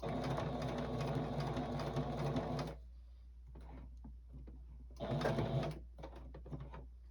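A sewing machine stitches across a quilted star tabletopper in two bursts, a long steady run followed after a pause by a shorter one, with quiet handling noises in between.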